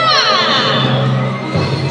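Crowd cheering and whooping at a sea lion show at Safari World, a loud continuous mix of excited voices including children, with no speech from the host over it.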